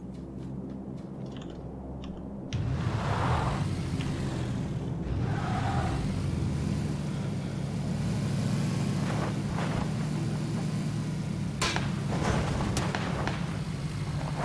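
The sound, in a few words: stolen car off-roading in PlayerUnknown's Battlegrounds video game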